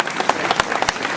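An audience at the Ouistreham mayor's New Year ceremony claps for medal recipient Monsieur Cavé, sharp separate hand claps ringing out close and loud over a brief stretch.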